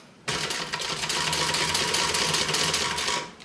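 A sewing machine stitches around a curved box corner on a bag, starting abruptly and running as a steady, close mechanical whir with rapid needle clatter, then slowing and stopping near the end.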